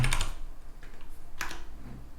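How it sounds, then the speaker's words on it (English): Quick bursts of keystrokes on a computer keyboard, a short cluster of clicks followed by a few more taps, close and fairly quiet. "Let's type something."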